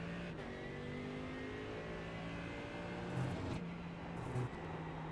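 Mercedes AMG GT3 EVO race car engine running on race fuel in iRacing at the Daytona Road Course, a steady loud droning engine note that pulls strongly up through the gears with brief shift dips, no talking.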